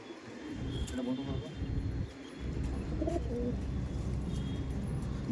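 A pair of Giribaz pigeons coos softly against a busy background, with a few brief bird calls rising over a steady murmur of voices nearby.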